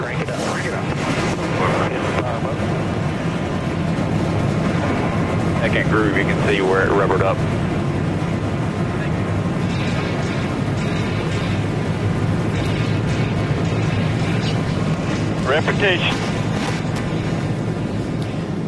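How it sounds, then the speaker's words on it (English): Forty-three NASCAR Nationwide stock cars fire up on pit road at Chicago, making a continuous loud roaring drone with the wind buffeting the mic, while commentators talk over it. "the 43 engines come to life down there on pit road"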